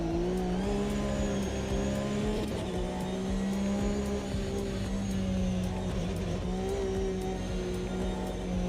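A GT3 race car engine in the Automobilista 2 racing simulator drones steadily and loud throughout, with rising and falling revs as it shifts gears, heard alone without talk.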